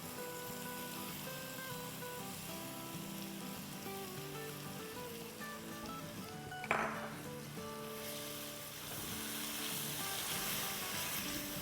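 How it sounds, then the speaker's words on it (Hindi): Tomato puree frying in a pan for a potato curry gives a steady, close, hissing sizzle that runs the whole time, with one brief clatter partway through. "अब टमाटरों के साथ अच्छे से भूनेंगे"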